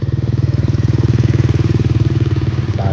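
A motorcycle engine runs loud and close in Laos, with a steady, rapid low-pitched pulsing throb that holds evenly for the whole stretch.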